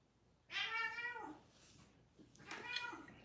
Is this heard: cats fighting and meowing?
yes